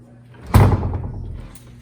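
A home door pushed shut over a resistance band anchor, one solid thud close by with a short fading rattle afterward and no talk.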